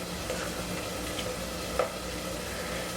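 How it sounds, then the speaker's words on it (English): Onions and garlic sauté in butter in a pan, giving a steady, soft sizzle and crackle up close, with a brief stir or scrape partway through. "my butter and I'm sauteing my onions because onions take a little longer to cook than the garlic"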